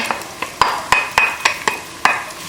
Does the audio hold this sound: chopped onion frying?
yes